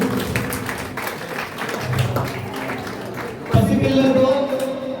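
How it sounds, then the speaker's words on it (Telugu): A school retirement ceremony audience claps as a vice principal is invited to the stage, steady applause under a speaking voice, swelling louder near the end. "చప్పట్లు."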